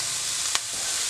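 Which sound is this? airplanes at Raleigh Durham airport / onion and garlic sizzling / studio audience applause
onion and garlic sizzling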